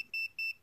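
Short electronic beeps from a multimeter, three quick pulses of a thin high tone in under a second, faint and close, with no talk.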